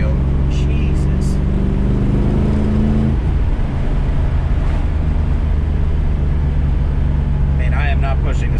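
A 1965 restomod Ford Mustang drives along, its engine giving a loud, steady low rumble heard from inside the car, with people talking over it now and then.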